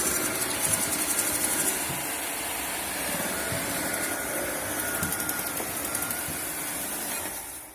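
An iLife robot vacuum cleaner sucks dust from the bottoms of drawers, with a steady, close motor whir and rattly, bumping texture that continues without a break.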